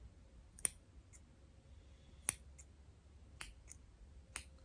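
A few sharp, crisp snips, four or five spaced unevenly in near silence, close and fairly quiet.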